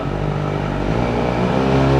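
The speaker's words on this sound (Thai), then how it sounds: "จะฟังเสียงท่อคันนี้กัน" Revving of a 2018 Benelli TRK502 motorcycle through an aftermarket Akrapovic-style exhaust: a loud, close, continuous engine drone that climbs and falls quickly, with a deep exhaust note and no talking.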